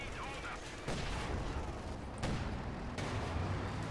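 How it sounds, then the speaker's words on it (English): Company of Heroes 2 battle gunfire, a few sharp distant shots and bursts over a dense, rumbling wartime din, fairly faint and continuous. "Snipers are actually taking shots at the M10."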